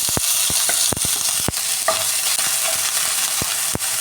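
Crushed ginger, garlic and green chilli frying in hot coconut oil for a coconut chicken curry, a steady close sizzle broken by several sharp spoon scrapes and stirring knocks against the pan.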